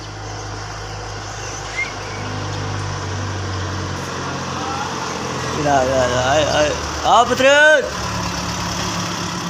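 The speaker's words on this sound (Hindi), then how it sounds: "मेरी कज़न की भी गाड़ी आ गई है" A cousin's car pulls up in a village on a morning and settles into a steady idle. The engine hum runs throughout, and voices talk over it briefly near the end.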